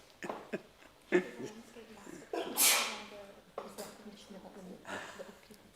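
A single sharp sneeze bursts out amid people talking during a committee meeting, loud and close, with speech continuing before and after it.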